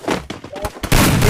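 Gunfire in a mobile shooter game comes in loud, sharp bursts. A brief stutter of shots leads into a heavy sustained volley, with voices faintly mixed in at the start.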